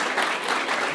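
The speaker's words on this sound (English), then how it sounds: "I want you to give them a round of applause" A brief burst of applause from a school board meeting audience honoring parents, steady dense clapping from a roomful of people.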